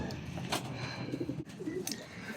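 Pigeons coo softly inside their loft, a few low murmuring calls set against a steady background hiss.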